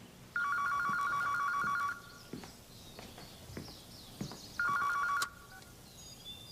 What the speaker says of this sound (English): I promise you that phone's going to ring any day now.